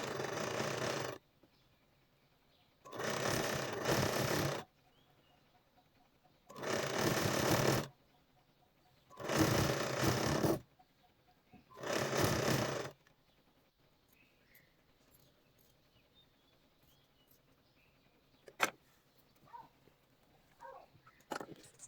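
A sewing machine stitches fabric strips for a blouse in five loud, even bursts of about a second and a half each with short pauses, followed by quieter handling clicks and rustles; no talking.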